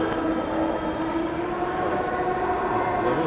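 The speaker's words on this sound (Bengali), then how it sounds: "ট্রেন এসে গেছে" Steady rumbling of a metro train arriving at Farmgate metro station in Dhaka, with a sustained tonal hum from its motor, filling the space continuously without any voices.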